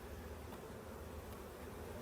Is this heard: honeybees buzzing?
yes